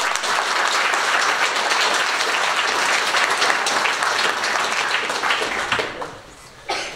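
Audience at a folk dance ensemble's season-closing show gives sustained, dense applause that holds steady for several seconds, then thins out near the end.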